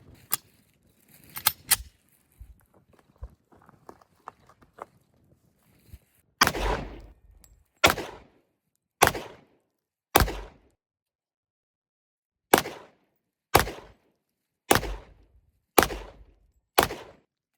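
A 10mm pistol fired at an outdoor range from about 10 yards: after some quiet handling clicks, nine sharp, loud shots ring out one at a time with pauses of about a second, each leaving a short echoing tail.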